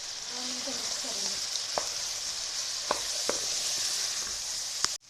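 Chickpeas with ground chillies, garam masala and turmeric fry in oil with a steady, close sizzle, while a few clicking spoon strokes stir the pan and no one speaks.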